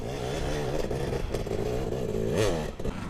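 A 150cc enduro motorcycle leans through a corner on a trail, its engine droning steadily close by and swelling briefly as the throttle opens before easing back.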